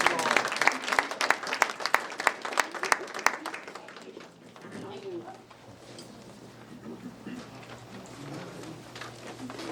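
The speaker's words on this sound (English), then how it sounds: "Y'all give my wife a round of applause." An audience claps briskly with sharp, dense hand claps for several seconds, then the applause thins into a softer, distant patter with a murmur of voices beneath.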